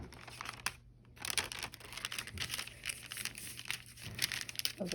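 Sharp scissors cut through sewing fabric or a paper pattern in a quiet room, faint irregular snips and crinkles close by.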